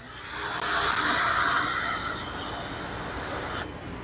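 Steady high-pressure spray of a pressure washer rinsing soap off house siding during a DIY soft wash, loud and continuous hiss with a sudden stop near the end, no voices.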